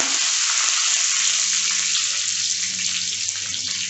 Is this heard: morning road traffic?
no